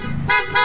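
Two short, loud PIAA car horn blasts close by, bright and brassy, separated by a brief gap.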